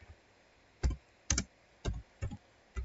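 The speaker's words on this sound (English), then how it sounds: "in between, let me type" Typing on a computer keyboard, heard as a handful of separate key clicks and short bursts spaced irregularly, close but fairly soft, against a quiet room with no talking.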